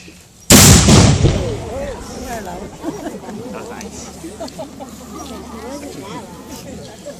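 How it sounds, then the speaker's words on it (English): At a War of 1812 re-enactment at Grimsby, one loud, close artillery gun blast booms, then voices and chatter carry on beneath the fading rumble. "These guns are loud."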